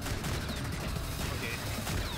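Rapid automatic gunfire from a sentry turret in the video game Space Beast Terror Fright, a dense rattling burst running without a break under faint voices.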